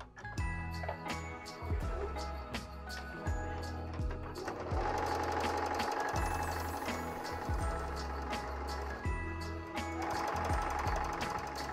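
A sewing machine rattles through fabric for a Christmas placemat in rapid, steady stitching bursts, mechanical and close, with faint chiming tones sounding now and then.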